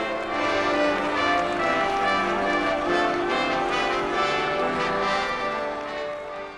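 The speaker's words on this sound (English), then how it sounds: "Chants of "Long live the Pope" rang out, mingled with the bells of the Basilica." Bells of St Peter's Basilica ring during a papal inauguration Mass for Pope Francis, a dense, sustained peal of overlapping tones that stays steady and loud throughout, with a faint crowd wash beneath.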